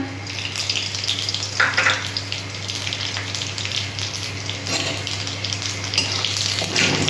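Dried red chillies and five-spice seeds (panch phoron) crackle in hot oil for a Bengali curry, a continuous close sizzle with a few brief louder bursts and a low steady hum beneath.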